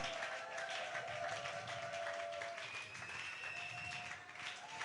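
A church congregation applauding during worship, a continuous, fairly soft patter of many hands clapping under a sustained tonal hum, with no clear speech.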